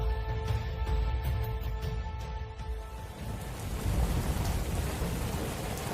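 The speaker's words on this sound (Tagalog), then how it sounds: "Kung tumigil lang sana tong ulan" Heavy rain pours steadily in a dense, loud hiss with a deep rumble underneath, continuous throughout with no voices.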